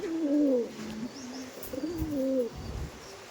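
Saharanpuri Kaldum Giribaz pigeons coo up close, a few soft, rolling throaty calls in a short sequence.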